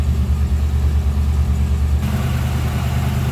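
A 1982 Chevrolet Camaro Z28 Pace Car's 305 Crossfire Injection V8 idles steadily up close, a loud, even low rumble with a slight shift in tone partway through.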